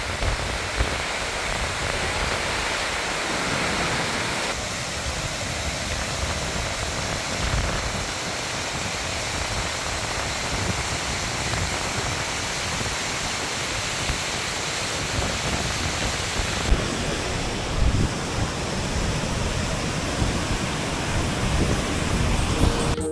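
The large Pokali waterfall in Okhaldhunga roars as a dense, unbroken wash of noise heard from close by, steady and loud for over twenty seconds with no voices.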